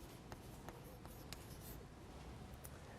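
A pen scratches out a formula by hand for a triple-integral change-of-variables lesson. The short strokes are close and soft, with brief taps between them and no talk.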